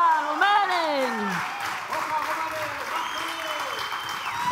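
Audience applause fills a church in Val-David during a Romani music concert, a dense sustained clapping while a voice speaks and vocal-like tones ring over it.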